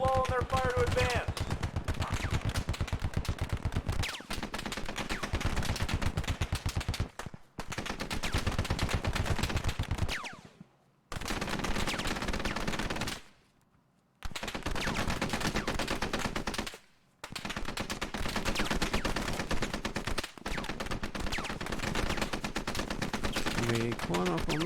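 Machine-gun fire during a mock military exercise, long loud bursts of rapid automatic shots in close succession, broken by several short pauses, with other gunfire mixed in.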